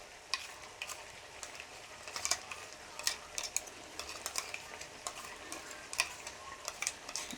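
Potatoes fry in a pan as a ginger, garlic and cumin paste is stirred in, giving a soft steady sizzle with frequent light clinks and scrapes of a utensil against the pan, heard close up.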